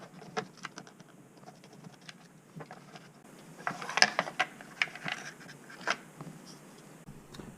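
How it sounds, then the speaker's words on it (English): Phillips head screws being unscrewed from a motorcycle license plate light on a Kawasaki Z900RS, heard as close, quiet ratcheting clicks and small metallic ticks in irregular bursts, with no talk. "that's held in, if you can see, by these two Phillips head screws there. So I'll be unscrewing those"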